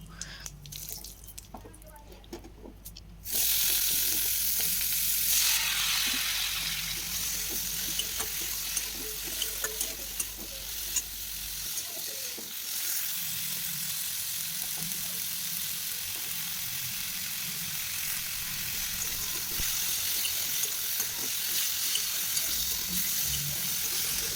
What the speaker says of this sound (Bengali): ট্যাংরা মাছ ভাজছি